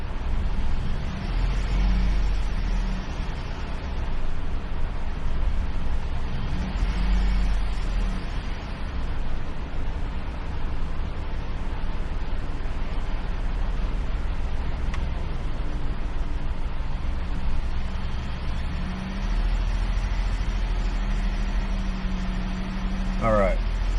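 A 2019 Ford F-150 with a 3.5L engine idles rough with a cylinder misfire, a steady low engine rumble running throughout with faint talk over it.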